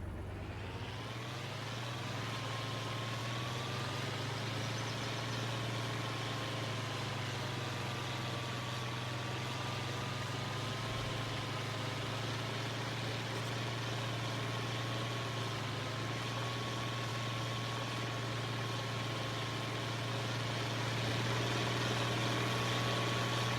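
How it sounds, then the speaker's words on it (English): Tractor engine idling in Farming Simulator 25, a steady low drone with a constant hum and a faint rising whine, holding even and fairly loud throughout with no talking. "I like all the tractors from EY Modding, but some of them need a little bit of a sound change."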